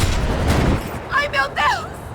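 Gunfire during a chaotic shootout in the video game Max Payne 3: a dense, noisy rattle of shots opens the moment, then voices shout urgently over the fading din.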